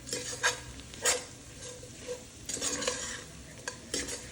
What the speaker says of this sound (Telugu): నెక్స్ట్ అవి కూడా మనకి ఆయిల్లో బాగా ఫ్రై అవ్వాలి